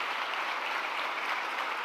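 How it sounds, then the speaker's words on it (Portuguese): A church congregation gives a round of applause, a steady even roar of many hands clapping throughout, moderately loud and diffuse, with no voices. "Eu queria que você desse uma salva de palmas para a base Canto Nobre."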